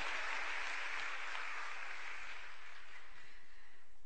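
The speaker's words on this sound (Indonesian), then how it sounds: "Tepuk tangan dulu bagi Tuhan Yesus." Church congregation applauding during a sermon, dense steady clapping from many hands filling the room for a few seconds.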